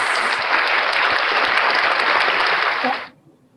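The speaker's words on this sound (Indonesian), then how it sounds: "kita berikan aplaus yang meriah untuk Ibu Gladys" Audience applause for speaker Ibu Gladys at a business development training session, a dense, steady clapping that fills about three seconds before cutting off sharply into quiet room tone.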